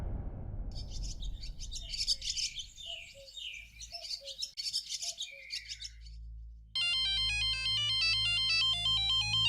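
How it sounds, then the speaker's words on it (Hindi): Birdsong chirps over a low hum give way to an electronic phone ringtone, a steady repeating melodic pattern that plays loudly at the end. "माधुरी, तुम्हारा फोन है?"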